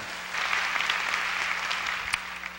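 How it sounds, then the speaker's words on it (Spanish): Church congregation bursting into applause after a short quiet lead-in, sustained clapping from many hands with a few sharper claps standing out, a low hum underneath. "Denle un aplauso al Señor bien fuerte, bien fuerte, bien fuerte"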